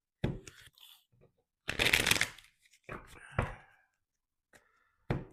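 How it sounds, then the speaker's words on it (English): A deck of tarot cards is shuffled in several quick riffling bursts separated by pauses, close and crisp, with small handling clicks between them. "Let's shuffle the cards a bit for you."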